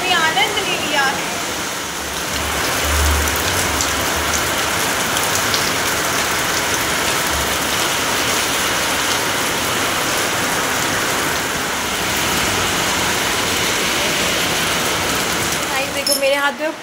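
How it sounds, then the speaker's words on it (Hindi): Heavy rain pours steadily in Noida, a loud continuous hiss of drops on surfaces, with a faint engine rumble underneath. "बहुत तेज़ बारिश आ रही है"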